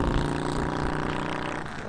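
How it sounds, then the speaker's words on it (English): A motorcycle engine rumbles steadily and loudly, a continuous low throbbing drone that holds for two seconds and eases off slightly at the end. "you can still hear the motorcycle rumble through this frame"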